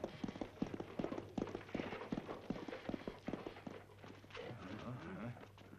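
Horses' hooves clip-clopping at a steady walking rhythm on hard ground, a continuous patter of moderately close hoofbeats, with faint voices mixed in toward the end.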